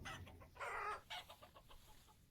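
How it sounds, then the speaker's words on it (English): A rooster in the Vintage Story video game gives a series of soft, quick clucks, one fuller squawk standing out in the middle, all fairly faint. "Do we still have 2 roosters fighting?"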